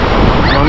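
Sea waves on a stormy beach at Anapa's Dzhemete coast, a loud continuous rush of surf mixed with heavy wind buffeting the microphone, with no talking.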